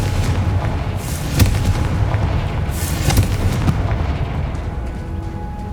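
In the video game Hogwarts Legacy, the Confringo blasting spell sets off loud booming explosions over a steady rumbling game backdrop. A few sharper blasts stand out amid the continuous din.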